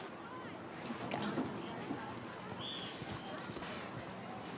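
A horse's hooves clip-clop at a walk nearby, a loose run of knocks beneath faint background chatter and ambient noise.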